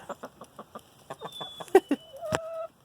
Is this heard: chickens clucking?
yes